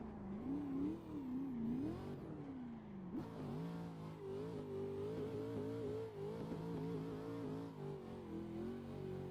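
Corvette from the VDC car pack in a video game, its engine droning steadily with rising and falling revs throughout, loud and close with no talk over it.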